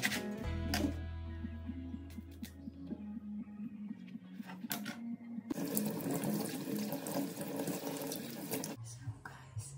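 Ingredients for a homemade barley soup are rinsed under a running kitchen tap. The water flows steadily and turns into a louder, fuller splashing rush partway through, with a voice talking faintly at times.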